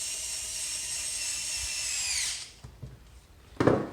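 Power drill whirring steadily as it drives a screw into the handle of an EGO 56V 14-inch cordless chainsaw housing, a close, loud run of about two seconds that stops abruptly, followed by a few light plastic clicks and a knock.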